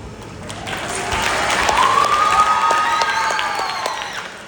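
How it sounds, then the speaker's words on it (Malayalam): An audience applauds at a magic show, with clapping that swells to a dense peak mid-way and a few whoops of cheering rising above it before it tapers off. "ഇപ്പൊ നിങ്ങള് കുറച്ച് ആർപ്പുവിളി ഉണ്ടായിരുന്നു"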